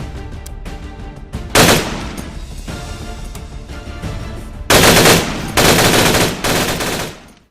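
Automatic gunfire in the tactical shooter video game Ground Branch, with scattered sharp shots giving way to loud, dense full-auto bursts near the end, close and punchy.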